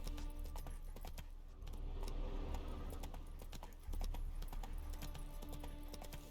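Roach, a horse in The Witcher 3, gallops in a rapid, irregular clatter of hoofbeats with jangling tack. The sound is moderately close and continuous, over a low rumbling game background.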